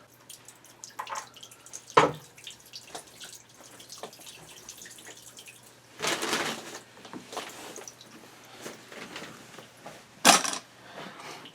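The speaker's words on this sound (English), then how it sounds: "I'm letting it drain onto the top of the lid of the well" Water drains and drips from a loosened sewage pipe onto a well lid during a sewage grinding pump installation, with scattered drips and a few louder splashes and gushes over a quiet background.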